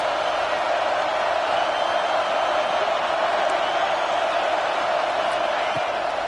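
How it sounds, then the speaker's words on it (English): A college football stadium crowd roars for the home defense on a big third down, a broad, steady wash of distant crowd noise with no clear peaks. "Big third down as the crowd gets behind this defense."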